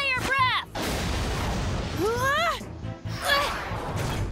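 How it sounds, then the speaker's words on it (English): Fire breath attack from a cartoon robot dinosaur in an animated series: rising whooshing tones sweep upward over a broad roaring blast, repeated in bursts across a few seconds. "And now, fire breath!"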